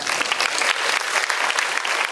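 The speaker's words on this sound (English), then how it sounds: "please clap for them" A conference audience at a Model UN opening ceremony claps for the stage team, a bright, dense and even round of applause filling the room without a pause.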